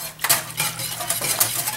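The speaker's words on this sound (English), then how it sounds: "So yeah, just keep stirring it and cook it down until it gets thick." A utensil scrapes and clinks against a metal pot in steady stirring strokes while cooking down macaroni and cheese sauce, close and fairly clear, with no voices.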